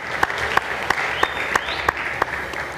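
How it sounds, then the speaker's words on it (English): A panel-event audience claps steadily at a youth citizen assembly, a moderate wash of applause with a few sharper individual claps standing out, no speech over it. "A round of applause for Hussein as he leaves the panel, please"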